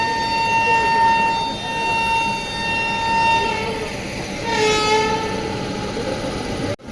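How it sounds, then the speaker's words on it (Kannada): The Rani Chennamma Express sounds a long, loud horn at Yeshwantpur station, its tone holding steady and then bending as it swells again near the end over platform noise. "ರಾಣಿ ಚೆನ್ನಮ್ಮ ಎಕ್ಸ್ಪ್ರೆಸ್ ನೋಡಿ ಫುಲ್ಲು ಪ್ಯಾಕ್ ಆಗಿದೆ"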